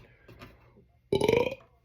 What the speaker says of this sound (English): A pepper burp.